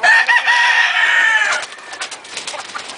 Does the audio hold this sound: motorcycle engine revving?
no